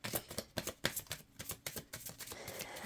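Rapid crisp riffles of tarot cards being shuffled, several bursts in quick succession, close and fairly quiet, ending in a longer soft sliding shuffle.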